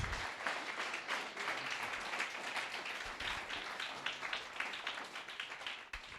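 A church congregation gives a loud round of applause, dense continuous clapping heard from a distance and fairly faint.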